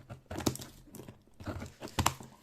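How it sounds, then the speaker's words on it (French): Crinkly tearing and crunching in short bursts, like tape being ripped off a package, close to the microphone with brief pauses between pulls. "on va ouvrir le petit scotch"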